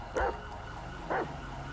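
Police K9 dog in GTA 5 with an LSPDFR police mod, two sharp barks about a second apart over a quiet game background.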